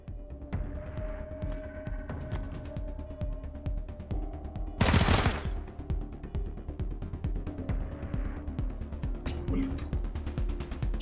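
Automated turret fire in the Wasteland 3 combat game, a string of rapid mechanical gunshots with one sharp loud blast partway through, played under continuous casual talk between players.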